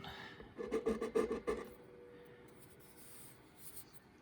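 Fine-grit sandpaper rubs a mandolin bridge in a short burst of rapid back-and-forth rasping strokes. The strokes stop after about a second and leave quiet room tone with faint scraping.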